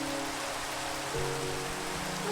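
Rain falls in the video game Minecraft as a steady, dense hiss that stays constant throughout, with a faint low tone underneath and no talking.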